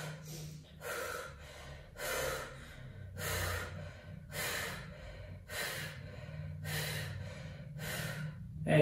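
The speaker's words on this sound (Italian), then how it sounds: "Fai 6 respirazioni rapide, inspiro, espiro, rapidissime." Rapid breathing exercise during an osteopathic diaphragm treatment: a patient takes about eight quick, forceful in-and-out breaths in a steady rhythm, close and clear with no talk over it.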